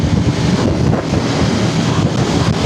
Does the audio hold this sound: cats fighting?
no